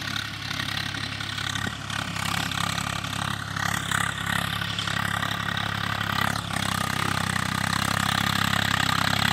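A Swaraj 855 FE tractor pulling a laser land leveler heavy with soil labors loudly, a continuous heavy rumble with rattling clatter that gradually builds in intensity.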